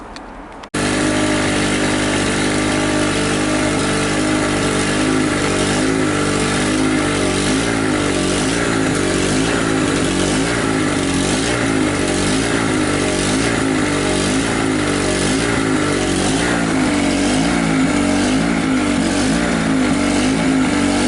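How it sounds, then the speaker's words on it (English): A cheap Einhell portable generator starts and then runs steadily, giving a loud, constant engine drone with a buzzing mechanical hum that holds without pause throughout. "let's hook this up to the generator. Get this thing up and running and try it out."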